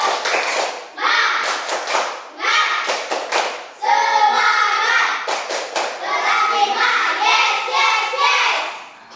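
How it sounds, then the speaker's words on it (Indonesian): Children in a classroom perform a rhythmic spirit clap, sharp clustered claps and taps alternating with their chanted voices in a patterned call, loud and close in a small room. "Coba dimulai dari tepuk semangat."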